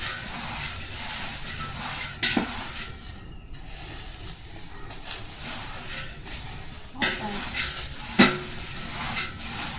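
Hot masala with coconut being stirred in a pan hisses and sizzles steadily, broken by several sharp scrapes and clacks of a spoon against the pan at irregular intervals.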